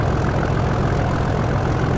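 A Class 37 diesel locomotive idling in the Train Simulator 2019 game, running from Lowestoft to Norwich: a steady, loud, low engine rumble that holds constant throughout, with no talking.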